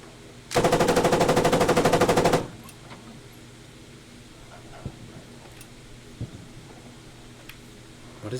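Enemy machine-gun fire in a video game, one loud rapid burst lasting nearly two seconds, followed by quiet background with a few faint distant clicks and thumps.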